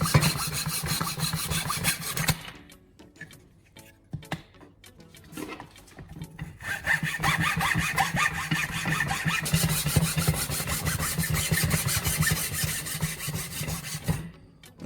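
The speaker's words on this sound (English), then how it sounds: "saw off any extra wood so the guide sits clean and flat" Hand saw cutting off excess wood from a small wooden block drill-bit angle guide, rapid rasping back-and-forth strokes close up, pausing briefly midway before resuming.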